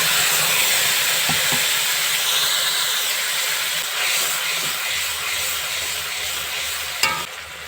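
Ground spice paste sizzles in hot oil for a potato and egg dish, a loud, continuous close hiss with occasional stirring clicks and a clatter near the end.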